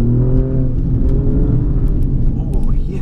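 An Alfa Romeo Giulia Quadrifoglio accelerating hard in race mode, heard from inside the cabin as a loud, steady engine roar with rising tones, carried to the rear wheels through an 8-speed automatic.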